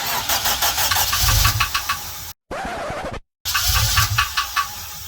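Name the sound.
Honda K20Z4 engine starting in swapped Civic EJ9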